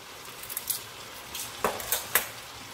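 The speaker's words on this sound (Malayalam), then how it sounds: "ഇതിലോട്ട് നമ്മൾ കഴുകിയെടുത്ത് വെച്ചിരിക്കുന്ന നമ്മുടെ ചിക്കൻ ഇട്ട് കൊടുക്കാം." Washed chicken pieces go into a pan of sizzling ginger and garlic for a Punjabi chicken curry, producing a steady hiss with a few clattering knocks and scrapes of meat and utensil near the end, and no talking.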